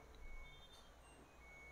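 A fully automatic washing machine signals the end of its cycle with thin, high electronic beeps, heard faintly over a low background hum with no talking.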